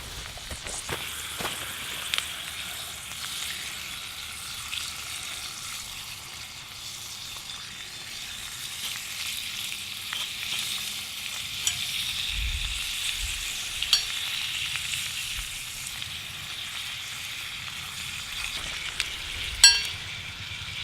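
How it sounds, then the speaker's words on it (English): Bacon cut into small square pieces fries with eggs in a small skillet over a campfire grate, a continuous sizzle with occasional stirring, scraping and light clinks. "cook all my bacon and eggs. I did cut the bacon up into little square pieces."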